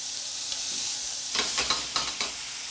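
Sherry poured into a hot pan of frying kidneys, a quiet background sizzle that bursts into loud spitting and crackling hisses as it hits, with a few stirring clatters.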